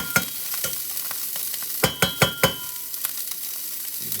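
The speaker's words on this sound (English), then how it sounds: "So bring some of that oil on the pan and fry" Food frying in oil in a pan over high heat, a constant sizzle broken by sharp clinks and knocks of a utensil against the pan, several clustered together midway.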